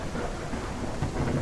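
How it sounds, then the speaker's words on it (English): Rain and rumbling thunder in the survival game No One Survived, a dense steady downpour hiss with low rolling rumbles, loud and continuous with no voices. "No, it's actually rain."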